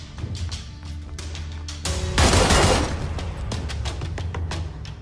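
Shots from a QBU designated marksman rifle in the game PUBG crack in a quick irregular series, with one heavier booming burst in the middle, over a steady background bed of music.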